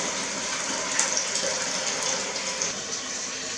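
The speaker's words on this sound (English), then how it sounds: "now I have to use the sink to fill the water buckets" Tap water from a sink runs into buckets being filled for ducks and other animals in winter, a steady unbroken gush that keeps an even loudness throughout with no talking.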